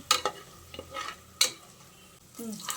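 A few quick scraping stirs of whole cardamom, cinnamon and cloves in a pan, separate short bursts with gaps between them, close and fairly quiet, with a faint sizzle.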